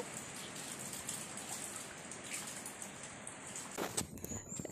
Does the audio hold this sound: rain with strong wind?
yes